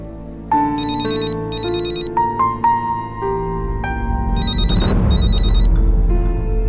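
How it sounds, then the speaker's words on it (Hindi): A phone ringtone plays nearby, a repeating electronic melody with bright chiming bursts, loud and clear, followed by a low rumbling undertone near the end. "फिर से सनम का डॉक्टर फोन कर रहा है।"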